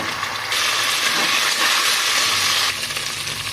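Ginger garlic paste hits browned onions in a hot pan for a minced meat khichuri, letting out a loud, steady close-up sizzle that swells suddenly and holds for a few seconds before easing slightly.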